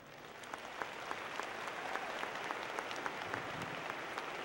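Steady applause from a large audience at a 2012 University of Oklahoma at Tulsa commencement ceremony, dense overlapping clapping holding an even level throughout with a few sharper individual claps standing out.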